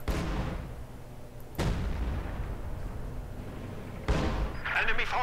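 An anti-tank gun striking a mine in Company of Heroes 2, heavy booming blasts and rumbling impacts in a busy battle mix, with game voice lines over the top.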